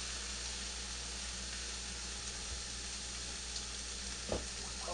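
Mushrooms sizzle in a hot pan with olive oil for a grilled vegetable wrap, a steady dense hiss close by with a soft clatter near the end, no talking.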